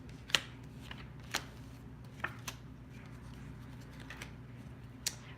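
Tarot cards are shuffled and laid down in a quiet room, with soft, sharp card snaps at irregular intervals over a low background hum.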